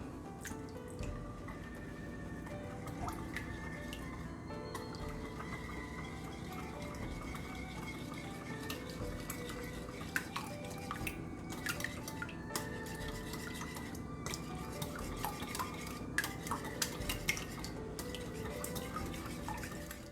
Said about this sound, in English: Now we're going to whisk this together.